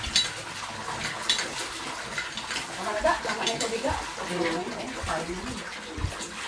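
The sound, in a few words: water splashing while hand-washing laundry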